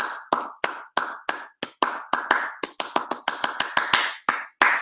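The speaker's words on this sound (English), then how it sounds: "Now make up a rhythm with your hands" Bare hands clap out an improvised rhythm, about two dozen crisp, close claps in uneven groupings with short pauses between bursts and no talking.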